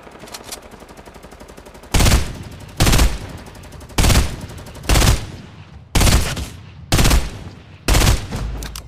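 Gunfire in the Fortnite video game: after a quieter lead-in, seven loud, evenly spaced shots ring out about a second apart, each with a short decaying tail.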